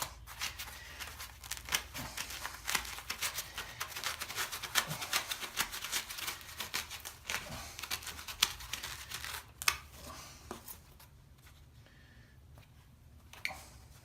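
Knife cutting and slicing through foam insert material for a Snap-on tool box, close-up rasping and crinkling strokes in a steady irregular run that fade out near the end.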